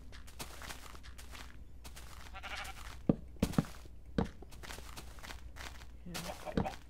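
Minecraft sheep bleating amid game sounds, with footsteps and a few sharp thuds, while a player talks over it.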